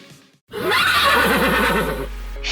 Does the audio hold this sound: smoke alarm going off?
no